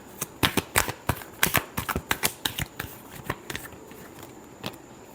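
A tarot deck is shuffled by hand in a quick run of crisp riffling snaps, dense at first and then thinning out, close and fairly quiet, with no talk.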